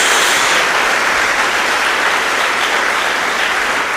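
A church congregation breaks into loud, sustained applause during an evangelical sermon, a dense and continuous roar of clapping with no speech over it.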